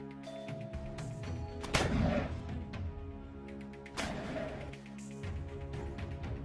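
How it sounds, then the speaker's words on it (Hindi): Rockets fired repeatedly by fighters hiding behind a tree in war footage: two loud booming launches about two seconds apart over a sustained tonal background drone. "कुछ लड़ाके एक पेड़ के पीछे छिपकर लगातार रॉकेट फायर करते हुए नजर आ रहे हैं"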